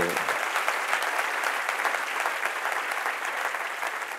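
A large audience claps steadily and densely at a spiritual discourse, a continuous wash of applause throughout with no voices over it.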